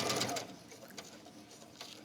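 A sewing machine stitches through a waxed canvas envelope purse, turning at a corner, with a steady close mechanical whir that briefly eases and picks up again.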